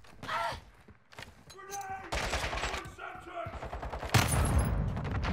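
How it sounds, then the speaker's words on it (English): In a Call of Duty Modern Warfare 2 match on Xbox Series X, a loud grenade blast bursts out near the end after stretches of rapid gunfire, with voices talking over the action. "That was fucking grenade."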